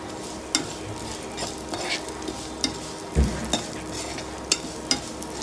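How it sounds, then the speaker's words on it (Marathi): Vermicelli (sevai) roasting in ghee in a pan for kheer, a steady close sizzle with a few sharp scrapes and taps of a stirring spoon, no voices. "आता याच्यामध्ये आपण या शेवया पण रोस्टेड करून घेऊया, तुपामध्ये भाजून घेऊया ते आपण"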